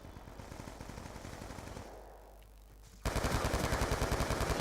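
Rapid automatic gunfire from Call of Duty Black Ops 2 multiplayer: dense, rhythmic bursts of shots that rattle on steadily, dip briefly, then return louder and closer.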